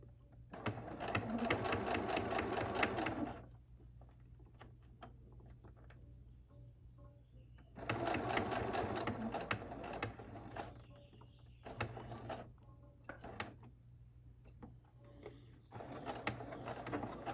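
A sewing machine stitches fabric in two long bursts of fast, even whirring, with shorter stop-start runs and quiet gaps between, heard fairly close at a low overall level.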